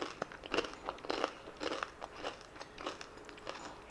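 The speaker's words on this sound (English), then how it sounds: "Can you hear the crunch?" Homemade chakli snack bitten and chewed up close, a quiet series of sharp, dry crunches at an irregular rhythm, with no talking.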